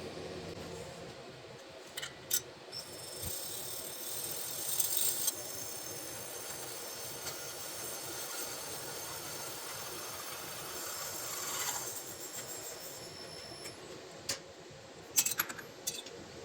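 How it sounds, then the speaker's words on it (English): A milling machine cutter cutting a recess into a Porsche 912 cylinder head, giving a steady quiet metallic whine with faint rattles and a few sharp clinks. "I'm going to cut an 8mm deep recess"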